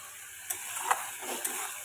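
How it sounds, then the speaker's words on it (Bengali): A spice paste for Bengali tel koi fish sautés in oil in a pan, a soft steady sizzle broken by a few light clicks of a spatula, close and unaccompanied by speech. "তো ভালোভাবে মশলাটা এখন কষিয়ে নেব"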